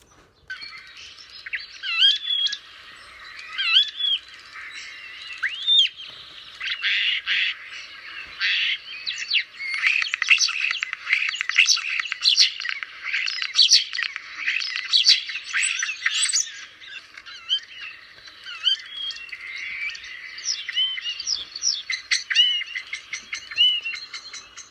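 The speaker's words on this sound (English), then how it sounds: "here is a picture of a starling, and I'm just going to play the song for you now" A common starling sings in a recording played back, pouring out a lively string of whistles, clicks, chirps and rattling phrases with barely a pause and no other sound behind it.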